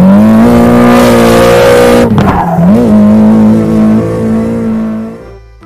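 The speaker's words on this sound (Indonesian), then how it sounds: "Mobil balap." A toy race car's engine revs loudly and steadily with a high, buzzy whine, dipping briefly in pitch partway through before settling back and fading near the end.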